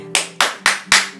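Four sharp, loud hand claps in a quick, even rhythm, close up, over a faint background hum.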